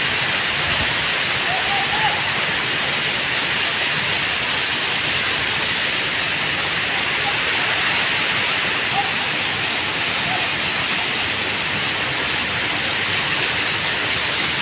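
Rainwater pouring off a roof during rain, a loud, dense, unbroken rushing wash like a small waterfall, with a little wind in it and nothing else standing out.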